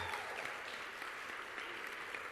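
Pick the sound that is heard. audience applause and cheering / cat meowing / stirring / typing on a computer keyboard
audience applause and cheering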